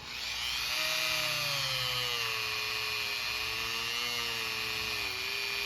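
A motor-driven polishing wheel loaded with rubbing compound buffs a scratched watch case, a loud steady whine with a slowly drifting pitch that runs continuously after spinning up.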